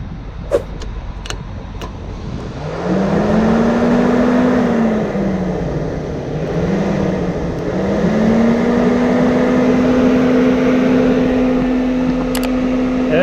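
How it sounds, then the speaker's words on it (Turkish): Electric radiator cooling fan on a T3 converted from air to water cooling kicks on after a brief click and runs steadily, a rising whir that dips once mid-run then settles into a constant hum close by. "iki fişi birbirine değdirdiğimiz anda fanın devreye girmesi lazım"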